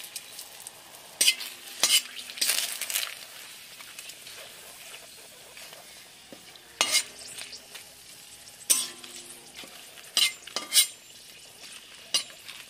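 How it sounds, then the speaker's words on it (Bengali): Bay leaves and dried red chillies hit hot oil with bursts of crackling sizzle, broken up by sharp clinks of a spoon against the pan and quieter spells between them; no one speaks. "তেলটা গরম হয়ে গেছে, এর মধ্যে আমি তেজপাতা ফোড়ন দেবো আর শুকনো লঙ্কা।"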